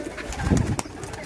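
Pigeons coo softly at close range, with low throaty murmurs over a steady background hum and a few brief rustles.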